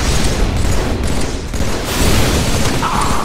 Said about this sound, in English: Yep, he's shooting at me.